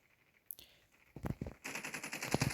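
Gunfire in a Call of Duty Mobile shootout: a single sharp shot, a couple of quick bursts, then sustained rapid automatic fire, fairly close and crisp.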